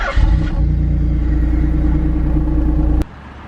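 A Nissan Fairlady 300ZX with an Apexi catback exhaust idles with a steady low rumble, fairly loud and close, cutting off abruptly near the end.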